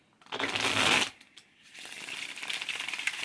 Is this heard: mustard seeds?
no